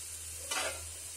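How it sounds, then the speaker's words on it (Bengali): Potatoes fry slowly in a covered pan for a summer breakfast dish, giving a short soft sizzle and stirring burst that rises midway and fades against a steady low hum. "তো আমি ঢেকে আস্তে আস্তে ভেজে নেব।"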